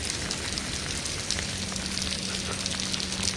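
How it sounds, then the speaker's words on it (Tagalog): Rain falling outdoors in Singapore makes a dense, even patter and hiss, close and steady throughout, with no voices. "Pero masarap ang ulan dito"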